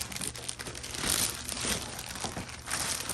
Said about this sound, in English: Let's go ahead and unwrap it.